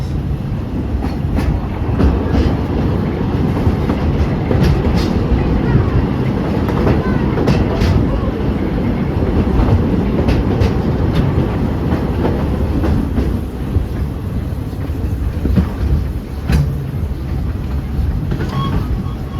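Walt Disney World Railroad steam train at Magic Kingdom rolling along its tracks, a steady close rumble with rhythmic clicks and clacks throughout, a few faint voices mixed in.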